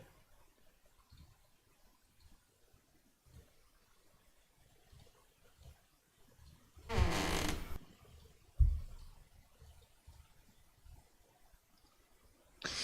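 A door in an Unreal Engine MMO video game creaks open in one sustained burst about midway, followed by a sharp thud, against a quiet background with faint scattered ticks.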